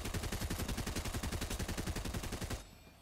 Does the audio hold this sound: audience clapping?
no